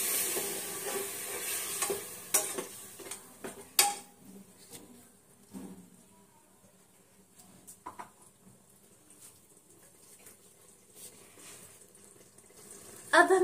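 Khichdi being stirred in a pan after water is added: intermittent spoon scrapes and clinks over a soft sizzle, with louder knocks at the start and a sharp clatter at the very end.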